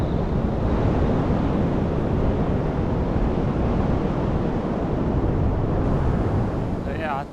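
Ocean surf rolls onto a beach at Black Rocks in Bundjalung National Park, a constant loud wash of waves mixed with heavy wind buffeting the microphone, with no clear break between swells.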